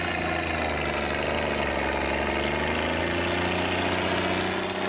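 Tractor engine running at a steady idle, a continuous mid-to-low mechanical drone with a faint vibrating buzz, close and unchanging for the whole stretch, with no voices.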